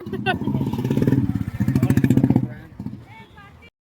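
A motorbike rumbles close by with a rapid pulsing engine beat that swells and then fades as it moves away, with people talking over it.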